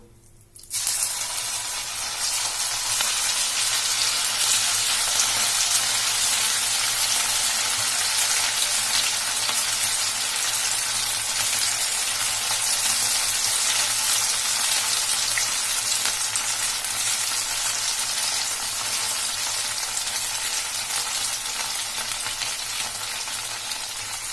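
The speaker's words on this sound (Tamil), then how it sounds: "எண்ணெய் சூடாயிடுச்சுன்னு நம்ம இப்ப ரெடி பண்ணி வச்சிருக்க மாவு கொஞ்சம் கொஞ்சமா இதுல போட்டுக்கலாம்" Semiya and gram flour pakoda batter drops into hot oil and sizzles, a loud, steady frying hiss that starts abruptly and holds for the whole stretch with no talking.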